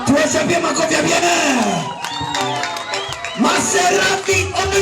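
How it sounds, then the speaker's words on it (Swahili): A church crowd at a Congolese choir event cheers, whoops and claps loudly, and the noisy roar swells again after a brief dip. Shouting voices mix in throughout. "Tuwachapie makofi ya bien."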